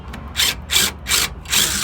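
Bolts are worked out of a brake caliper on a 2005 Ford F-150 during a brake pad and rotor job, giving four quick, close ratcheting bursts in steady rhythm with short pauses between them.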